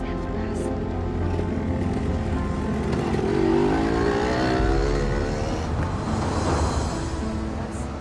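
A car being driven in to park, its engine rumbling steadily and swelling briefly as it moves, close and continuous with a faint voice underneath.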